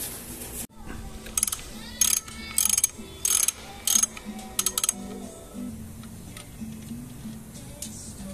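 A ratchet tightens the nut on a slider bolt of a Suzuki GSX-S750 motorcycle in a series of sharp, close clicking bursts. Quieter pauses fall between the strokes, over a low background hum.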